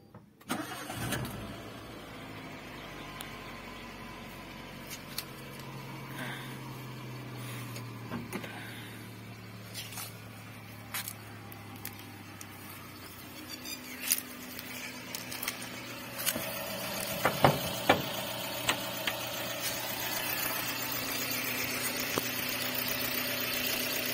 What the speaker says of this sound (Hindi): और इसका इंजन भी, इंजन साउंड भी मैं आपको चेक करा देता हूँ।